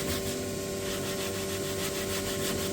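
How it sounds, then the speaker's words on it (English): Red sandpaper rubbed along the sharp edges of thick white oak shelves to round them over, a steady continuous scratchy rasp with faint rhythmic strokes, close and even throughout, no talking. "I'll just come through with this red sandpaper here and just get the edges rounded over a little bit"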